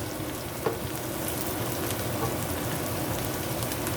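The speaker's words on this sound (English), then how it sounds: "So I'm just let the onion, they just sweat a bit" Onions sweating in a pan, a dense continuous close-up sizzle like steady rain, loud and even throughout with only a faint tap early on and no voices.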